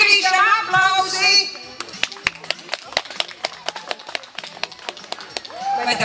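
Scattered handclaps from a small group applauding Andris ring out in an irregular burst of sharp, distinct claps, with people talking just before and just after.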